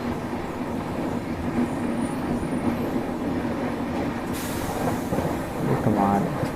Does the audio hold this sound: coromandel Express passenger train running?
yes